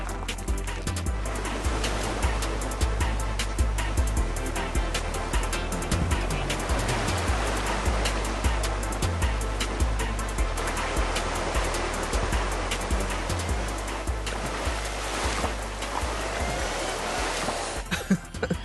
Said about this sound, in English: Like the Thar, the Duster too makes the river crossing look easy.